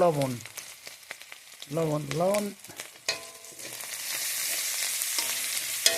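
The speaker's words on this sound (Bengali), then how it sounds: "শুধু রসুনের গন্ধটা দূর করার জন্য একটু তেলে দেবো" Garlic sizzles in a little oil, first under talking, then building into a loud, bright continuous frying hiss with faint stirring knocks once the voice stops.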